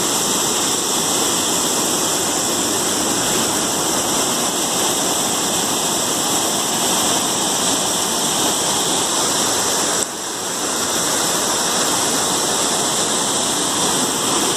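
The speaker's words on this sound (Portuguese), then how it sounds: "continua descendo muita água ainda" The Salgado River in Aurora, Ceará runs high after rain, a loud, steady roar of rushing water that fills the whole stretch without a break and with no voices over it.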